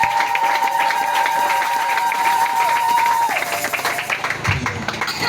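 A church congregation at a pastor's ministry consecration applauds and acclaims the Lord, steady clapping and crowd cheering over a sustained organ-like tone, lively and continuous.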